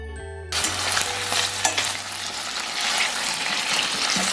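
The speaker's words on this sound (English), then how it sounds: "Over medium heat, add some oil, then add your sausages." Sausages dropped into oil in a pan over medium heat, a low hum giving way to a loud, continuous sizzle and crackle of frying, close and steady with occasional sharper pops.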